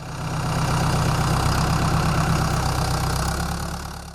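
A tractor engine idles in a field with a steady low rumble and mechanical throb, loud and close, holding at the same level for several seconds with no voices.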